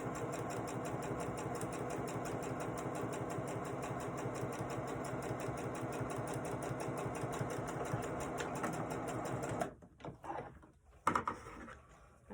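A sewing machine stitches a fabric bag top with a steady, rapid mechanical whir that runs loud and unbroken for about nine seconds, then stops, followed by a few clicks and handling sounds.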